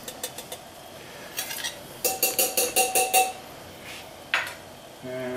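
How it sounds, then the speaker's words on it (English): A rubber spatula scrapes wild mushroom cream sauce out of a pan in a quick run of soft scrapes and light clinks, with a few scattered taps before and after. "again with the rubber spatula, I want all the sauce out of there"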